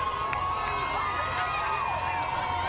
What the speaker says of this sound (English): The crowd here just roaring for flau'jae Johnson.